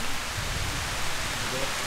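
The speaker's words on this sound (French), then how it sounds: "Oula, mais ça pleut beaucoup." Heavy rain pours steadily in a park during a thunderstorm in Bratislava, a dense, constant hiss of falling water that fills the whole moment without any voices.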